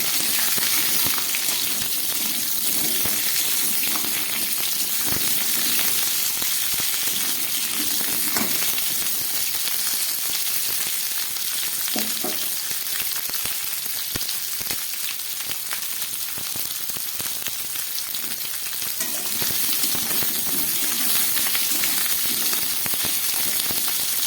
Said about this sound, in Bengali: এবার এর মধ্যে আমি কেটে রাখা সবজিগুলো দিয়ে দিচ্ছি ফুলকপি আর আলু দিলাম